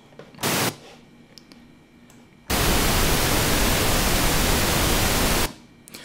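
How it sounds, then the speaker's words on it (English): A burst of pink noise from a synthesizer plays as a steady, flat hiss for about three seconds, loud and alone, preceded by a brief short burst of the same noise. "this is actually pink noise. This isn't white noise."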